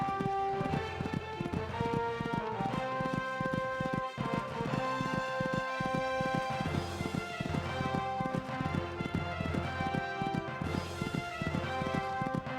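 A horse canters through a beginner show-jumping course at an equestrian championship, hooves drumming in a steady rhythmic beat over a dense, continuous background of crowd and music-like sound.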